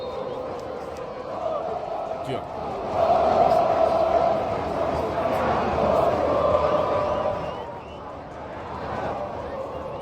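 Botafogo fans chant loudly in a packed Rose Bowl stadium during a match against Atlético Madrid, a sustained crowd roar swelling in the middle and easing toward the end, with a nearby voice speaking over it.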